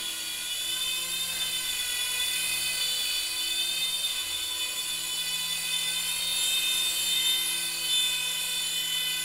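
An ARES MD500D CX 100 micro RC helicopter hovers and flies close by, its tiny rotor and motor giving a steady high-pitched whine with a thin buzzing edge that holds evenly throughout, with no talking.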